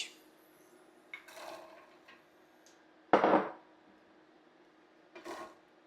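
Chopped root vegetables tumble into a chutney pot with raisins and sugar, giving a few separate clattering thuds and scrapes of pieces and utensil against the pot, with one louder dump in the middle and quiet gaps between.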